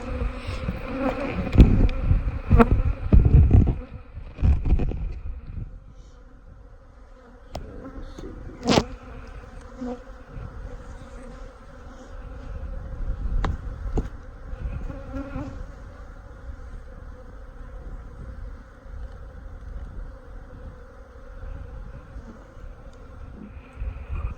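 Honey bees at a hive fanning with raised abdomens, a steady droning buzz close by, with a few louder bursts early on, then a continuous even hum throughout.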